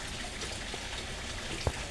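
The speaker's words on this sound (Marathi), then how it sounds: "पाऊस आता पडायला" Rain falling in a steady, even patter, a dense wash of drops on surfaces with one brief louder splat, close by and without voices.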